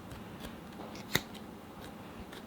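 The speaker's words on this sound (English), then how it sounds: "I like these scissors on the foam." Scissors cutting foam for a Spring Bonnie mask, one crisp close snip standing out over faint rustling and handling noise, no talking.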